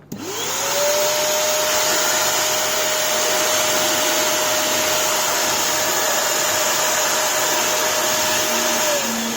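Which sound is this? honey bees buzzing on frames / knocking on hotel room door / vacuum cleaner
vacuum cleaner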